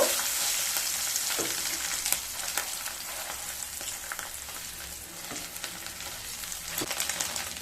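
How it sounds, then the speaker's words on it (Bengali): Eggs frying in a pan make a continuous close sizzle with occasional scraping stirs, steady and moderately loud throughout, with no one speaking. "দিয়ে এবার ডিমটাকে খুব ভালোভাবে ভেজে নেব।"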